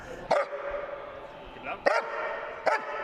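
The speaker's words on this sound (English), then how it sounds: "We have a new canine dog, Enzo." A police canine dog barks three times at a spaced interval, sharp and fairly close, over a low background murmur.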